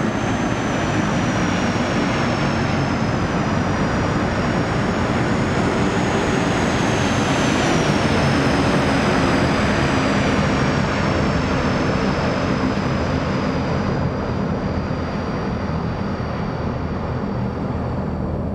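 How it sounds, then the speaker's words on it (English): Bear bombers fly by in a combat video game as a loud, steady engine drone that holds strong for the whole stretch, its pitch dipping slightly partway as the aircraft pass, with no voices. "So we have some bears flying by."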